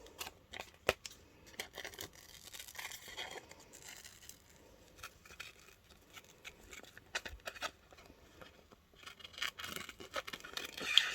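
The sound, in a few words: scissors cutting out a fabric shape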